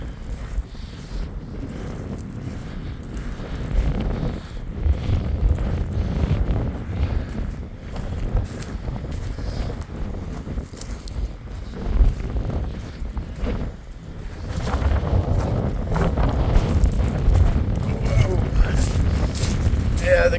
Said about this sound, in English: I'm pretty sure the winds are about 20, 25, and the gusts are pushing 40.